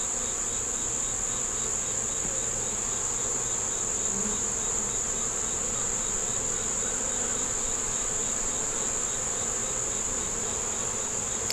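Honeybees at an open hive with a yellow queen and queen cells, a dense steady buzzing hum heard close up and unbroken throughout, with no voices.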